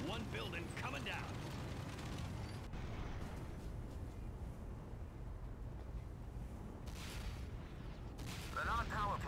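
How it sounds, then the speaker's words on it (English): A building in the Command & Conquer: Renegade game explodes and collapses: a loud, sustained roaring rumble that lasts throughout, with brief voices near the start and end. "One building coming down."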